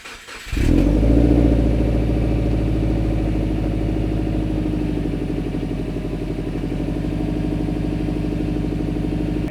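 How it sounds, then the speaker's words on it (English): A 2010 Subaru Impreza non-turbo cold-starts, cranking and firing up, then settles into a loud, throaty, rumbling idle through a deep custom exhaust that drones steadily. "This is a cold start on my 2010 Subaru Impreza NA with a custom"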